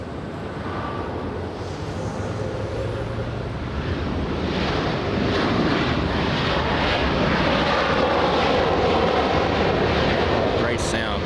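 Loud, continuous roar of a jet airliner's engines at LAX airport, swelling gradually as it passes close by, with wind buffeting the microphone and people talking underneath.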